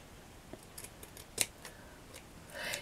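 Scissors trim fabric for a slow-stitch fruit book, a few quiet, close snips spaced out irregularly with one sharper cut and faint handling rustle.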